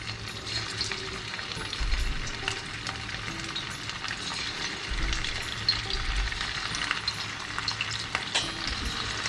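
Marinated chicken for a spicy mango chicken dish fries in oil in a pan over medium heat, giving a steady, close sizzle with a few low thumps of the pan and no talk.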